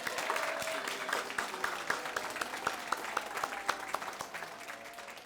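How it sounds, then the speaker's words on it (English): Sustained applause from a crowd at a graduation ceremony, steady clapping with a few louder individual claps standing out, fairly close and continuous throughout. "Let's just have one more round of applause for all of our graduates."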